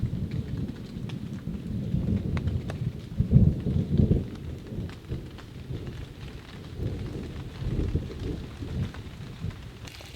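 Steady heavy rain hisses and patters while low thunder rumbles and rolls through, swelling in the middle before fading back to rain.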